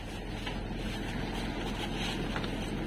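Steady wind and rain roar outdoors during Typhoon Carina, a dense, continuous broadband rush with no clear breaks, close and loud throughout.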